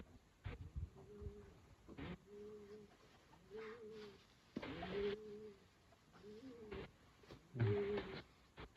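Pigeons in a crowded loft coo in soft, rolling phrases, several calls overlapping at close range, with light fluttering and rustling between them.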